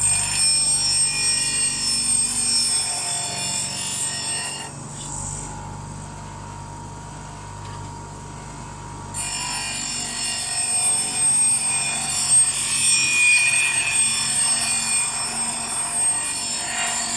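A woodturning chisel is ground round on a bench grinder with an adjustable table jig, producing a steady high-pitched whine and rasp that drops away for a few seconds midway, then resumes.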